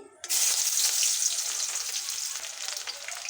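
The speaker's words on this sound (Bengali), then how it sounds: "কড়াতে তেল দিয়ে দেবো তেল গরম হয়ে গেছে দিয়ে দিচ্ছি পেঁয়াজ কুচি" Chopped onion drops into hot oil in a wok for an ash gourd greens dish. A sharp, loud sizzle bursts in at once and holds steady as a close, crackling hiss that eases slightly toward the end.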